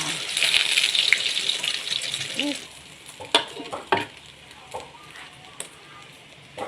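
Eggs frying in a pan give off a loud, steady hissing sizzle that cuts off abruptly, followed by quieter kitchen sounds with a few isolated clinks and knocks.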